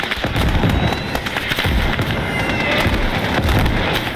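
Dense artillery barrages in the Gates of Hell World War 1 Ostfront mod, French forces in battle: a continuous, loud roll of overlapping explosive blasts and crackling bursts with no pauses.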